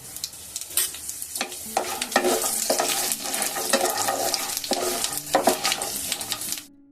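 Panch phoron, bay leaf, dried red chilli, bori and mixed vegetables such as pumpkin, eggplant, taro and ivy gourd sizzle steadily in hot oil, with repeated scraping and stirring strokes of a spatula close by.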